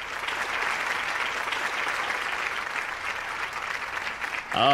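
A studio audience at a televised courtroom-style talk show applauds in a sustained, dense clatter of many hands, fairly loud and close, with a voice briefly breaking in at the very end.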